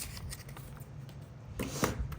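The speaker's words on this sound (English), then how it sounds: "So I'm gonna cut on the sides." Scissors cut through the paper pocket of a ring planner, trimming its sides. Brief, close, soft papery snips and rustles, ending in a sharper cut.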